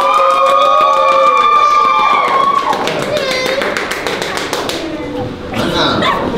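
Audience at a talent show in Orlando, Florida claps for a singer, a loud burst of crowd clapping and cheering with dense hand taps, mixed with lingering voices and tonal sound at the start.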